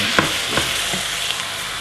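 Lasagne sauce sizzles steadily in a frying pan while a utensil stirs it, giving three or four soft scraping strokes over the constant crackle.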